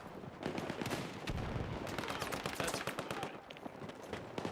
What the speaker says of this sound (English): I'm just trying to suppressive fire them at this point.